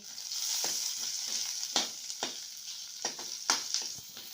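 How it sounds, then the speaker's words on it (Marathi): Onions frying in a pan with a steady crackling sizzle, broken by a few scraping stirs of a spatula, close and fairly loud. "कांदा मी ते परतून घेते।"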